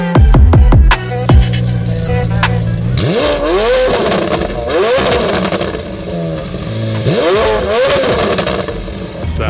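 A McLaren 720 GTR supercar revs hard at close range at an outdoor car meet, its exhaust rising and falling in several loud sweeping blips that sit over steady engine idle.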